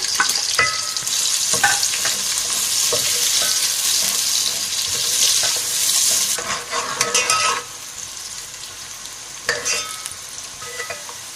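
Sliced onions sizzle loudly in hot ghee for Sindhi biryani, a steady broadband frying hiss broken by scraping stirs of a spoon against the pot, easing slightly toward the end.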